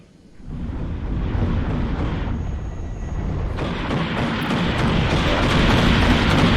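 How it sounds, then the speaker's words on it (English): An autocannon hammers away in the WARNO battlefield game, a dense, continuous roar of rapid heavy fire and explosions that swells louder over several seconds with no voices. "That autocannon sounds awesome."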